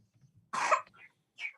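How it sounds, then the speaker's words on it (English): A person coughs hard once, then gives a couple of shorter, weaker coughs, close and clear with little else around. "Cough is terrible."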